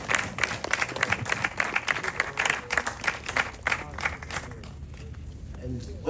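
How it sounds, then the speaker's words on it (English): Dancers at an Afro dance culture session clap for themselves, a busy burst of hand claps that fades after about four seconds, with some voices mixed in. "you need to clap for yourselves"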